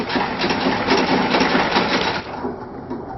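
A sewing machine stitching the side seam of a men's buba and sokoto outfit, running in a fast, steady mechanical patter, close and loud, then slowing slightly near the end.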